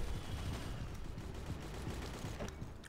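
Video game gunfire rattles as a steady, dense stream of overlapping shots under a constant rumbling background, fairly close and unbroken.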